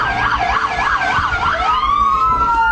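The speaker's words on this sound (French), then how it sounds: "la sirène est activée pour réveiller l'homme et la femme considérés comme non dangereux" A loud police siren sounds at a residence during a raid, first in a fast warbling wail, then sliding into a long falling tone, close and continuous over traffic-like rumble.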